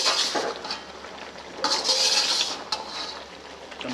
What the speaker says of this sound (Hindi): चम्मच को हिलाते रहें बराबर।